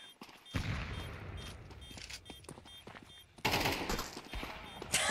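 Rapid Counter-Strike 2 gunfire, bursts of automatic shots with a louder volley near the end, with faint voices underneath.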